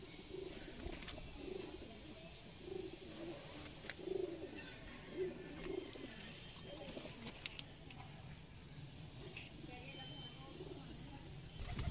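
Pigeons coo softly in a breeding loft in R.S. Pura, Jammu, low murmuring calls repeating over steady background noise with faint distant traffic.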